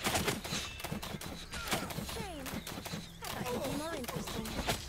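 Rapid bursts of weapon fire in the martial-arts battle royale game Naraka: Bladepoint, dense clattering shots under in-game effects and clashing sounds, with a voice talking over the action.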